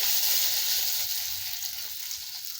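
Onion, dried red chilies and garlic frying in hot oil for a bitter gourd tamarind curry, a close, steady sizzle that eases off slightly toward the end, with no talking.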